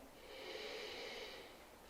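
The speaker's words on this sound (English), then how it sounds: "Breathing." One slow, soft breath is drawn in and released during a yin yoga butterfly pose, faint, close and airy, swelling and fading over about two seconds.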